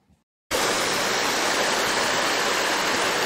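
The Castor River on Anticosti Island, at around kilometre 82, rushes with a steady broadband roar that starts abruptly after a short quiet moment and continues loud and close without any talking.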